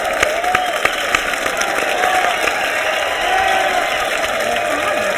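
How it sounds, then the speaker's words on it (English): A canned applause track plays on a modern art talk show, giving a dense, even wash of crowd clapping and faint cheers that runs without a break from start to finish. "Where's that applause track?"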